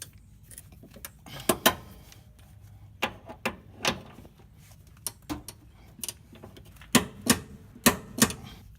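A torque wrench clicks repeatedly while bolts are tightened on a new Godspeed adjustable lower control arm and tension rod, giving sharp, close ticks in irregular bursts against a quiet background.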